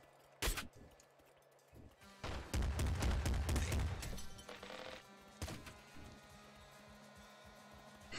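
Pixelated shots and blasts in the roguelike game Nuclear Throne, a few sharp single reports followed by a dense burst of rapid fire and impacts, then scattered hits, moderately loud with no talking.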